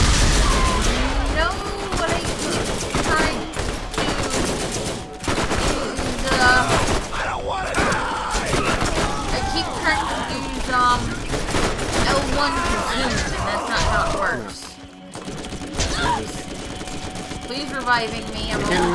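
Heavy, nearly continuous gunfire in Borderlands, with rapid overlapping shots and bursts that stay loud and dense throughout, briefly dipping near the end before resuming.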